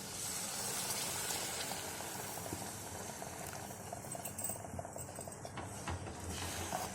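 Ginger and tamarind mixture for Kerala-style inji puli bubbling steadily in a pan, a continuous close, dense simmering crackle with small pops throughout, no talking.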